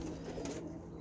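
Roller pigeons cooing softly nearby in a loft, a low throaty murmur that carries steadily through the brief moment with no talking.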